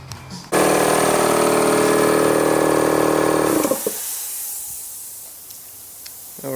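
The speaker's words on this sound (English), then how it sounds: "We did it using a DA with a 400 grit, smoothing it all down." A dual-action sander fitted with 400-grit paper smooths plastic car door handles. It gives a loud, steady, hissing whir for about three seconds, then cuts off and quiet room noise follows.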